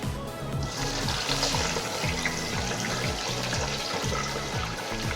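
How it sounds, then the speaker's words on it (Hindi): Pieces frying in hot oil in a kadai give a steady, dense sizzling hiss that stays loud and close throughout, with a low rhythmic thumping underneath and no talking. "अब हमने इसमें कढ़ाई में ऑयल रखा हुआ है, वो गर्म हो गया। तो अब हम इसमें फ्राई करते हैं।"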